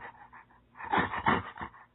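Person vocally imitating a strange dog-like creature panting in bushes in a horror video game, with rhythmic breathy huffs that build from soft to louder bursts, close and alone.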